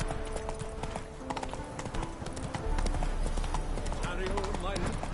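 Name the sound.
horse hooves galloping in the video game The Witcher 3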